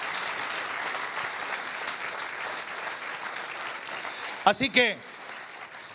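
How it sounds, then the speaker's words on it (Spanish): A church congregation applauds loudly to God during a Christmas sermon, with a dense, sustained wash of clapping for over four seconds before a voice briefly speaks as it dies away. "Si ese aplauso para Dios, yo quiero que se lo dé fuerte"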